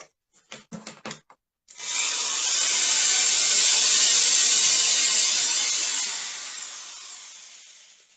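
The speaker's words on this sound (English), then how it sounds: "We have a corded hand drill here." A few brief clicks, then a loud, steady high-pitched whir of a corded hand drill running for about five seconds before winding down.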